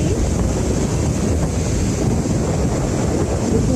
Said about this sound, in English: Sound of the sea?